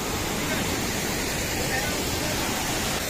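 Stream of water crossing the trail to Kabaragala near Dedugala waterfalls: a steady, broad rush of flowing water fills the scene evenly, with faint voices mixed into the noise.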